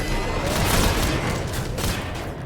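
Rapid harpoon gunfire from a sci-fi video game, a dense continuous barrage of blasts and booms packed tightly together for a few seconds, loud and close with no talking over it.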